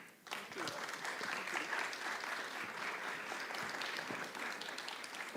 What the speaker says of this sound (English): Please give a warm round of applause to Dr.